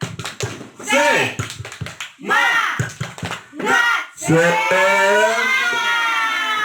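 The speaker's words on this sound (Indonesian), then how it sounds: "kita tepuk semangat Bapak Ibu. Tepuk semangat." A group of adult teachers performs the rhythmic Indonesian 'tepuk semangat' routine, with sharp claps between loud chanted vocal phrases in a patterned call-and-clap rhythm.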